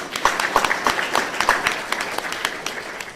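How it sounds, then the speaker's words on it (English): Applause from an event audience thanking the organizers at an environmental talk, a dense spread of hand claps running steadily through the whole stretch at moderate loudness. "So just a round of applause for them."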